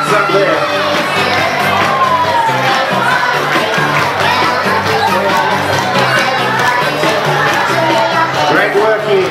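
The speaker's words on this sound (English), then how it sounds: "Let's give Tighes a big round of applause." Schoolchildren and families at an Easter hat parade cheer and shout in a loud, continuous crowd roar, with children's voices whooping throughout and little letup.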